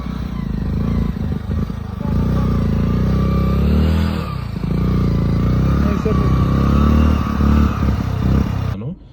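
A 150cc motorcycle engine straining uphill in Ladakh, loud and close, droning steadily with labored revving, brief dips around the middle and rattling clatter before cutting off at the end.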